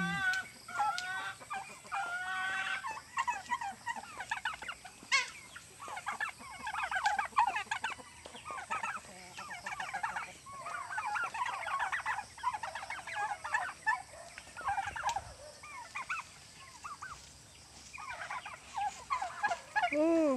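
Turkeys and chickens on a farm call continuously, with repeated rapid gobbles and clucking overlapping in busy bursts, fairly loud and close across the whole stretch.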